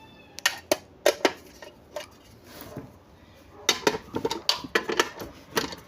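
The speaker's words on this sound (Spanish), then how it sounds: "Vamos a sacar estos pernos." Bolts being removed with a 12 mm socket from a Whirlpool washing machine transmission, a series of sharp metallic clicks and clanks in irregular bursts, close up, with no talking.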